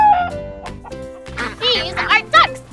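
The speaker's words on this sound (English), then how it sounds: "These are ducks. And ducks go, quack, quack, quack" Cartoon ducks quack in a children's nursery-rhyme episode, several short nasal quacks bunched in the second half over light background music.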